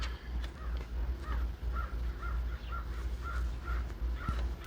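Birds calling outdoors, a string of short repeated caws or calls heard faintly in the distance over a low steady background hum on a hot day.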